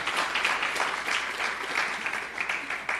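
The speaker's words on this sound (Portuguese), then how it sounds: "salva de palmas para o Vitor." An audience at a university electrical engineering seminar applauds a student's presentation with dense, steady clapping that continues evenly and is fairly loud throughout.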